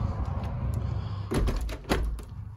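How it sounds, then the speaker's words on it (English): Indoor door being shut, with a few clunks and a firm thump near the end, close and fairly loud over a low room hum. "Let me just uh, shut the door."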